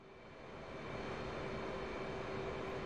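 Jet engine in DCS World flight simulation spooling up as throttle is advanced, a steady broadband roar with a faint whine that swells louder over the first second and then holds.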